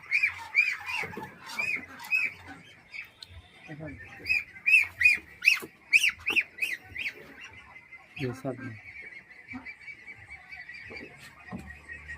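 Ducks being vaccinated against duck plague give repeated nasal honking quacks, loud and close, in bursts through the clip, with people talking and handling sounds underneath.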